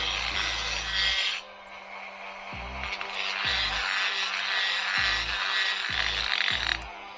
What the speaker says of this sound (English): I'll have to use the die grinder to just slightly widen the diameter of the top two holes